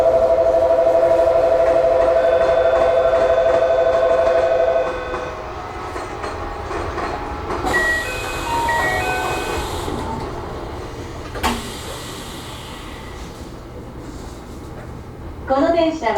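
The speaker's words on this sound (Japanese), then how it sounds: "2番線から普通金陽区町行きが発車します。" Aonami Line local train departing Nagoya Station bound for Kinjo-futo, heard from the front cab: a station announcement and chime play over a humming platform, then the motor and rail noise build steadily as the train pulls away.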